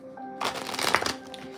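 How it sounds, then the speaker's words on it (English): Tarot cards are shuffled once in a quick riffling burst, close and fairly quiet, lasting about a second after a brief pause. "Get a good shuffle."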